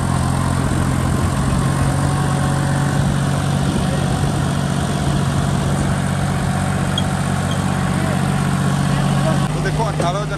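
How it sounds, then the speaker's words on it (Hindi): A new John Deere 5050D tractor engine runs steadily at close range with a Shaktiman rotary tiller, a low, even drone and mechanical rumble, no noticeable change in pace throughout. "आप देख सकते हैं ट्रैक्टर बिल्कुल साइलेंट चल रहा है, बिल्कुल फ्री चल रहा है"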